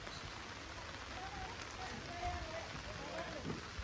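Rain falls at an outdoor amusement park, a faint and steady hiss with soft pattering throughout. A voice is heard quietly in the background.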